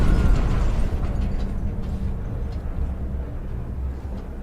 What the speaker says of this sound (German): An explosion, but not one of ours.